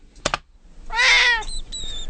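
A domestic cat lets out one clear, close meow after a brief sharp tap, followed by faint high whistling tones.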